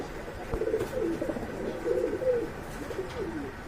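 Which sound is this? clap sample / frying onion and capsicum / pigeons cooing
pigeons cooing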